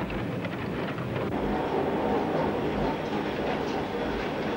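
A train being loaded with zinc ore by a conveyor belt, a dense continuous rumbling roar of machinery and falling ore, steady and loud throughout, with no speech.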